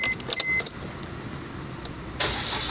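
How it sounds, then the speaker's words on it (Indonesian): A Suzuki Ertiga's engine cranks and catches near the end, a sudden broadband roar rising out of a quiet garage background, preceded by faint clicks and whirring. "Kemudian hidupkan mesin."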